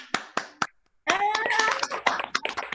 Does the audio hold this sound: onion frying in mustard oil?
no